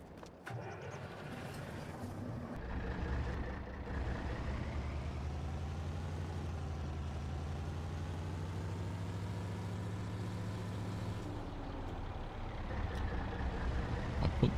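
A truck engine in a farming video game rumbles steadily as the vehicle pulls out of a bunker, a low, even drone that holds for several seconds and then swells slightly near the end, with no voices.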